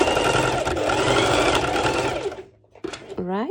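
A heavy-duty sewing machine runs fast and steady, a dense mechanical whir that stops abruptly, followed by a brief voice.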